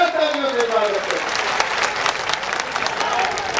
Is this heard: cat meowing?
no